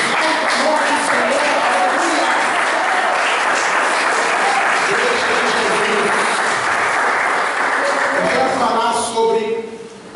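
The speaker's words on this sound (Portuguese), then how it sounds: "Aplausos, glorifique." A church congregation at a Wednesday service applauds in a loud, continuous wash of clapping that holds steady for several seconds, then thins out and fades near the end as voices emerge.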